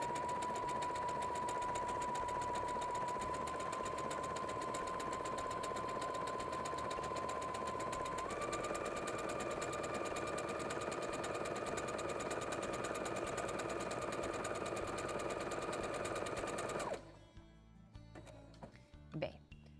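A sewing machine stitching a fabric appliqué cutout onto a house-shaped cushion whirs steadily and closely, starting slower and then stepping up to a faster, higher running speed before stopping abruptly near the end.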